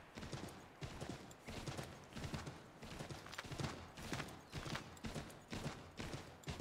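Horse hooves clip-clop in a steady, rapid gallop rhythm through the video game Assassin's Creed III, loud and close, with dense repeated impacts continuing throughout and no talking.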